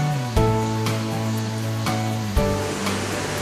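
A mountain stream in Deokgu Valley, Uljin, South Korea, rushes steadily and continuously near a bridge, a full broadband flow with a few soft knocks, no voices.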